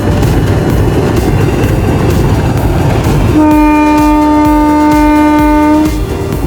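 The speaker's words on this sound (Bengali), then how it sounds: "এই যে এই ট্রেনটা এখন ছাড়লো" A train leaves Bogura railway station for Natore. A loud, steady rumble of the engine and carriages runs throughout, and midway a long, sustained horn blast sounds close by.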